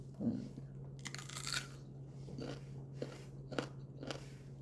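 Someone bites into crunchy fruit by the sea and chews it close up, with several crisp crunches spread through the clip and a little quiet speech.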